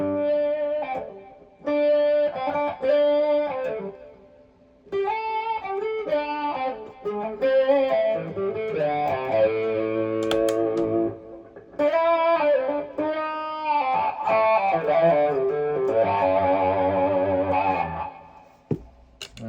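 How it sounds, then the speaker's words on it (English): A distorted electric guitar through a pedalboard plays sustained lead phrases with a saturated, slightly chorused tone, notes ringing and bending across several bursts separated by short pauses. "once I start adding a little bit of dirt to it, I'll use it to kind of shape lead tones"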